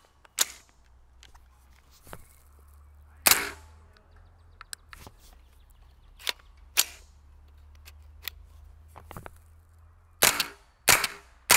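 Sharp rifle and pistol shots firing orange tracer rounds at a homemade shooting range in fading light, irregularly spaced single cracks and a quick closing pair, heard at a moderate distance over a low steady hum.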